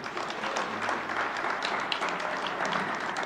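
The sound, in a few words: audience applause for symposium presenters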